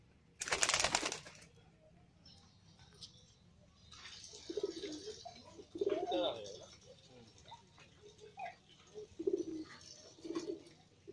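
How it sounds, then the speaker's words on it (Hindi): Jiria Madrasi pigeons give soft, low cooing calls in short repeated phrases at close range, following a brief loud rustle at the start, with faint chirps in the background. "बहुत ही बढ़िया नस्ल का कबूतर।"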